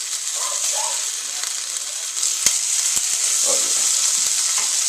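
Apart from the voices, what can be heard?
burger patty frying in a pan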